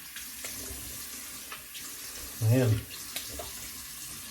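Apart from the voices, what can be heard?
tap water running to soak a shaving brush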